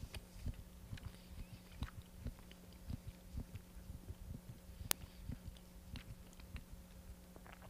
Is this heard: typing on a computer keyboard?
no